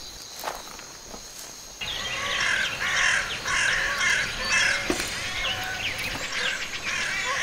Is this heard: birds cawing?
yes